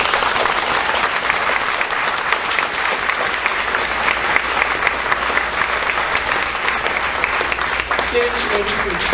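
Sustained applause from an audience at a sixth-grade graduation ceremony, a steady dense wash of many hands clapping, loud and even throughout.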